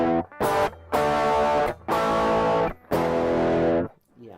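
Electric guitar through the Modern Overdrive setting of a BOSS ME-50 multi-effects unit, three loud sustained overdriven chords with brief gaps between them before fading out, with no talking.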